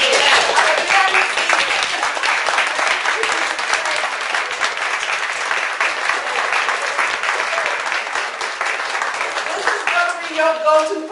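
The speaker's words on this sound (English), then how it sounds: "we need to like literally stand up and give Barbara a round of applause" A room full of people gives Barbara a loud, sustained round of applause at a risk management session. The dense clapping holds steady for the whole stretch, with a voice rising over it near the end.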